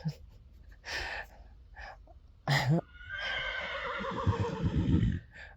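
A horse whinnies loudly nearby, a long shaky neigh after some snorts and breathy puffs, with faint thuds before it.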